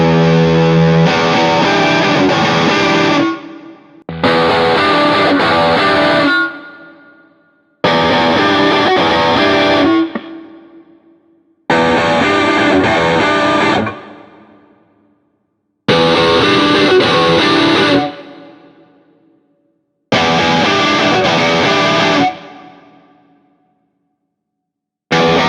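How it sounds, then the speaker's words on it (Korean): Heavily distorted electric guitar played through an amp head into a cabinet from another brand, six loud sustained chord phrases each left to ring and fade before the next, with no one talking. "지금 마지막 앰프에서 캐비넷을 이제 다른 브랜드로 한번 바꿔보면서 들어보겠습니다."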